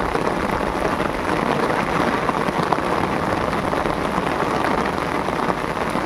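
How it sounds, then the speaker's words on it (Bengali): Steady rain falls on a river in the Sundarbans during cast-net fishing for shrimp, a dense, even hiss of drops on the water that holds loud and unbroken the whole time, with no voices. "সুন্দরবন নদীতে আমরা আজ মাছ ধরতে এসেছি, তার মধ্যে বৃষ্টি পড়ছে।"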